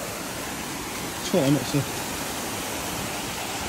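Waterfall at the top of the falls in Thailand, a steady broadband rush of water that stays constant throughout, with a brief burst of nearby talking partway through.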